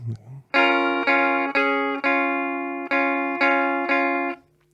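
An electric guitar plays a rockabilly riff, bright ringing chords struck about seven times in a steady rhythm, close and loud, after a brief murmur at the start.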